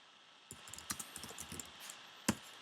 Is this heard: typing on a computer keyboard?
yes